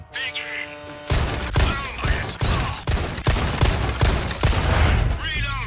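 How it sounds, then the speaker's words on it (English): Rapid, punchy gunshots fired at pop-up targets on a Resident Evil 4 shooting range, a steady run of loud cracks with mechanical clatter and voices talking over them. "Shoot the targets as they pop up."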